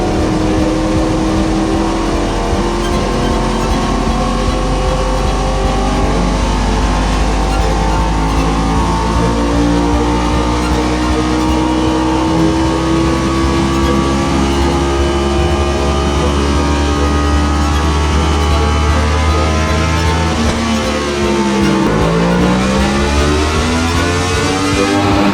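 A 2022 Yamaha MT-10 motorcycle with an Akrapovic exhaust revving hard, loud and close, its engine pitch climbing and falling in long sweeps, then dropping sharply near the end before rising again.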